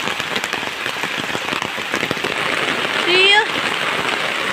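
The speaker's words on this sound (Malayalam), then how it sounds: "വഴി നടക്കാനേ പറ്റത്തില്ല മഴയായി കഴിഞ്ഞ ഭയങ്കര വെള്ളം വരവാ" Heavy rain falls outdoors in a village, a dense, even hiss of drops on surfaces throughout, with a brief rising whistle-like tone partway through.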